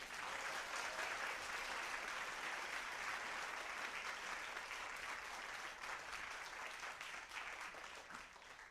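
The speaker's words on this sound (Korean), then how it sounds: "다시 한 번 더 박수 한번 주세요" Sustained applause from a crowd at a mask dance performance, a dense steady clapping that carries on without pause and tapers slightly at the end.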